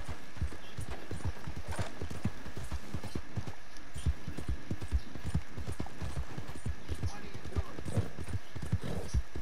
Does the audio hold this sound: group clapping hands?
no